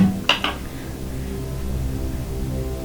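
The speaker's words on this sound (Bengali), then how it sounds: "রান্না করছিলাম" Dishes and utensils clatter during home cooking, two sharp clinks near the start, then a low steady kitchen hum with no speech.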